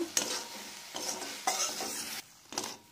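Cauliflower mixture with turmeric, chopped green chili and chili flakes stirred in a pan, a quiet sizzle under several close scraping strokes of a utensil at a loose, uneven rhythm.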